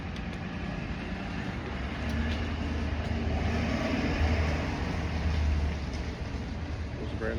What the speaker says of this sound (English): It was a very loud bus.